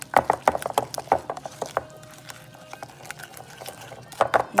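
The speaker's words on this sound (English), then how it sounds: "And I'm gonna add my brown sugar. Gonna mix that up." Brown sugar stirred into a meatloaf topping in a bowl, with quick wet clicking and scraping strokes of a spoon in an uneven rhythm, close and fairly loud, with a short pause before stirring resumes.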